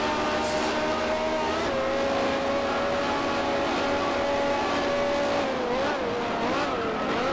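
A Brabham race car in the GPL racing video game, its engine holding a loud, steady high-pitched drone that shifts pitch near the end as the car changes speed, with no talking.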